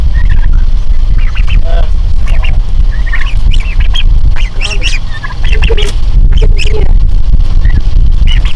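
A goose honks and squawks repeatedly at close range over constant loud background noise, with people talking nearby.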